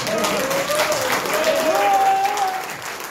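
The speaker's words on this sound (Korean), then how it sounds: "이해가 되시면 박수 한번 쳐주세요" An audience at a church assembly seminar and prayer meeting claps together in a steady, fairly close wash of applause, with a voice sounding faintly over it.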